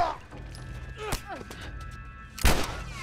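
Gunfire in The Last of Us, with two sharp, loud shots about a second and a half apart over a quiet game background, and a faint creature-like cry between them.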